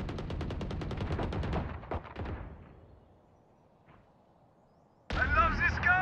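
Rapid gunfire from a weapon in the tactical shooter Valorant, a quick burst of repeated shots up front that trails off into quiet game ambience, followed by a loud voice starting up near the end.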